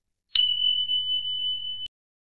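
A single bright bell ding strikes once and rings out with a clean sustained tone for over a second before cutting off.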